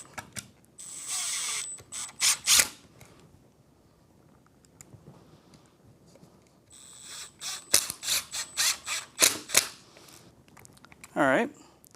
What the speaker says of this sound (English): I'm going to swap over to my number 3 bit, my Phillips 3. Run these screws in.